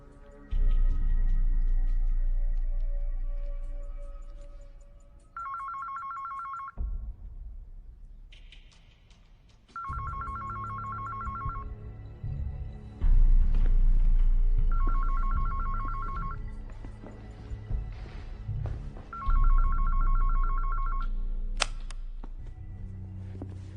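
A telephone in an action movie rings in repeated electronic bursts, four distinct rings spaced a few seconds apart over low rumbling film sound and background thuds, with no dialogue.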